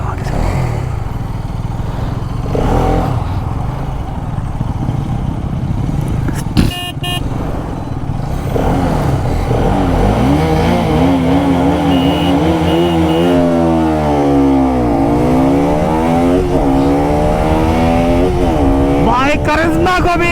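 A Karizma XMR 210 and a Pulsar RS200 fitted with a 36-tooth sprocket accelerate hard, their engines rising loudly in repeated sweeps through the gears amid wind noise, while someone talks over them.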